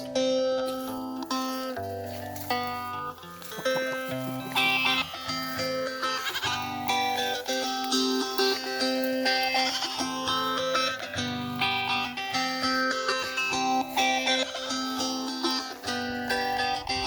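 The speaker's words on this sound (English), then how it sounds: "So these are some goats." West African dwarf goats on a farm, bleating repeatedly over a sustained bed of overlapping layered tones, fairly loud and continuous throughout with no talking.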